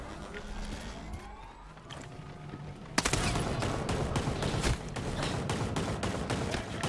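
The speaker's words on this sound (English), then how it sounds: "Ah, you can't shoot this high." Rapid gunfire in the video game Ghost Recon Breakpoint, with bursts of shots starting partway in and rattling steadily over a dense action background while a player talks.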